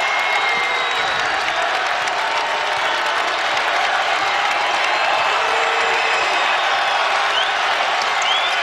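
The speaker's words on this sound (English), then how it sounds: "Big crowd again here at the Yum Center in Louisville." A big basketball crowd at the Yum Center in Louisville applauds in a loud, sustained wash of clapping and crowd noise that holds steady from start to finish.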